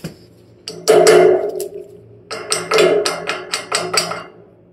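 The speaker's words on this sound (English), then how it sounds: "My little hammer." A small hammer taps on the belt pulley of a blower fan on a large 110-ton rooftop package unit during belt alignment, two close bursts of sharp metallic strikes with a brief pause between them.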